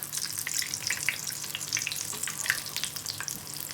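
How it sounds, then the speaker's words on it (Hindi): Shaami kababs fry in hot oil and are flipped to the other side, producing a close, crackling sizzle with scattered sharp pops and spits throughout. "ये फ्राई हो गया एक साइड से, मैं इसे साइड चेंज करने लगी इसकी।"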